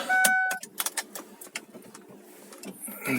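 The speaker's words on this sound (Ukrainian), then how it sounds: "Оце такі у мене постоянні ранкові заведення автомобіля. Слабий акумулятор." A car with a weak battery struggles to start on a morning in Kyiv, a short burst followed by a string of uneven sputtering cranks and clicks, close and fairly loud, with no voices.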